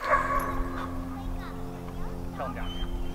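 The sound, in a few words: dog barking during bite training session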